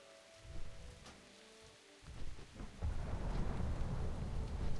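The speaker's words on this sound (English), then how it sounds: "Nice bit of thunder." Thunder rumbles in the World of Warcraft Dragonflight video game, low rolling booms building over steady rain, growing louder and denser toward the end.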